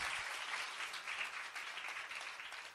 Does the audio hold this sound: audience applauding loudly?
yes